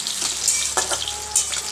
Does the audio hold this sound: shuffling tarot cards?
no